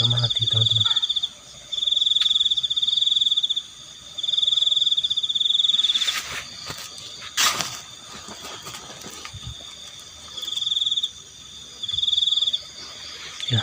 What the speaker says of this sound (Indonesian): suara jangkrik-jangkrik, kodok, tokek